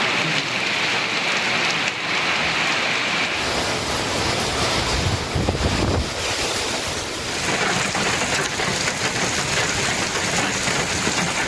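Heavy rain pours steadily in the Kattumannarkoil area of Cuddalore district, Tamil Nadu, a dense continuous hiss of drops striking surfaces, loud and unbroken for the whole stretch.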